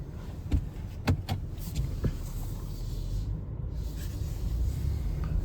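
A car driving through ice-damaged streets in Nashville, heard from inside: a constant low road rumble with a few scattered clicks and knocks near the start.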